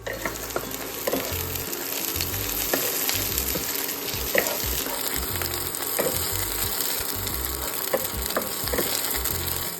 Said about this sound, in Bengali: এবার এটাতে পেঁয়াজ, ক্যাপসিকাম, কাঁচা লঙ্কা আর মটরশুঁটি দিয়ে ভেজে নেব